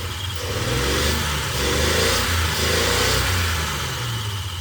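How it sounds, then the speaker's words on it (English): A Unimog's inline-six engine free-revs, swelling and falling in a couple of uneven surges over a low rumbling idle, close and loud, sounding rough rather than smooth. "I can like sometimes kind of free rev it pretty high, although it doesn't sound like it's completely smooth, especially from an inline six"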